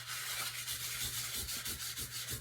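Steady rubbing of a dry baby wipe working wax into a faux leather journal cover, a continuous soft swishing scrape with rhythmic strokes, close and alone.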